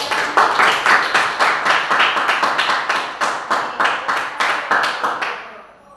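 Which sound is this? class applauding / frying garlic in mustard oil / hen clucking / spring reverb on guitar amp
class applauding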